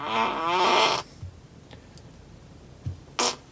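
A Tesla's novelty fart sound effect plays from the car, a loud buzzy, flapping blast lasting about a second, followed by quieter clicks and a short second burst.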